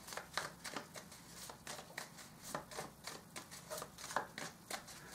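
Oracle cards shuffled by hand at close range, a quiet run of soft riffling swishes and light flicks in an uneven rhythm, with no talking.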